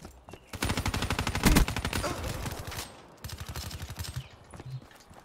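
Rapid automatic fire from the Dingle rifle in a first-person shooter video game, loud sustained bursts for several seconds with a short pause, then another burst, and no talking.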